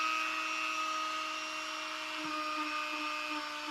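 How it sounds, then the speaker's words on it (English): A Dremel rotary tool held at an angle buffs the trimmed edge of a latex mask, giving a steady, quiet high-pitched whine that holds constant, with a few faint contact scuffs. "I'm holding my dremel at a 45-degree angle, buffing away"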